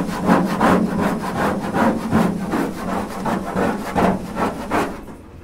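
A hand scraper rubbed back and forth over a surface, giving about a dozen rhythmic, close, rasping strokes in steady succession, no voices.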